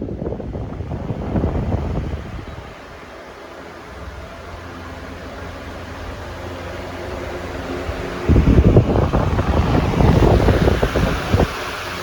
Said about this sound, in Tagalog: High powered talaga tong DC motor na to mga ka-DIY kasi pumapalo talaga ng 38 watts.